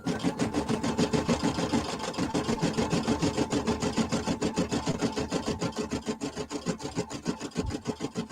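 A home embroidery machine stitches at a steady, rapid pace, its needle beating out a loud, close, even mechanical rhythm with a constant motor hum underneath. The sound runs unbroken for several seconds with no talking.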